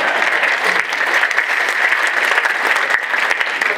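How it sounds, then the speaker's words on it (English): Steady, dense applause from a lecture audience at a talk on carbon tax and climate, loud and close, sustained evenly throughout with no voices above it. "Let's give it a round of applause"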